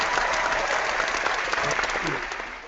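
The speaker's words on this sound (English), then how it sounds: "let's give him one more big round of applause to Dr. Calvin Flair." A crowd claps steadily in a loud, dense round of applause that tapers off slightly at the end.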